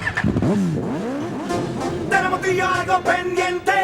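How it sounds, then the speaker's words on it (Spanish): A motorcycle engine revs in the intro of an album, its pitch swooping up and down for about a second and a half before giving way to steady tonal music. "el sonido de las motos es muy popular en la música urbana"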